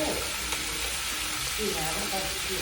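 Spicy field rat stir-fried with holy basil, a steady hot sizzle with stirring scrapes, with a voice talking faintly underneath.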